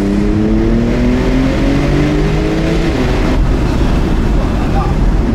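A Porsche 992 Turbo S launches with launch control, its engine note climbing steadily and loudly through the revs as the car accelerates hard, with a rushing roar filling the whole stretch.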